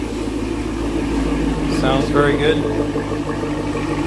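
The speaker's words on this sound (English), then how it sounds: "Give you a quick walk around so you can hear the exhaust and all that." A Chevrolet Camaro SS 1LE engine and exhaust idle with a steady, low, even rumble throughout, while someone speaks briefly over the running car.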